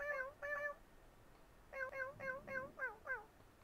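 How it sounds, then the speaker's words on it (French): Talking cat character in the video game Sludge Life meowing in two bursts of short, rising mews, a pair first, then a quick run of about six after a pause, clear and close over a faint background. "Alors, lui, c'est le chat qui parle aussi."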